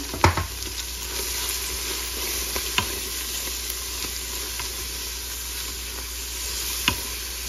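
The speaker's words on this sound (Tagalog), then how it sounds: "sunod natin yung kurukum o turmeric powder" Maqlooba ingredients fry in a pan as turmeric powder is added, a constant close sizzle with occasional light clicks and stirring scrapes, no talking.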